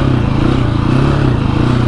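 A motorcycle engine drones loud and close in first gear while riding over deep whoops, a steady low rumble with slight pulsing.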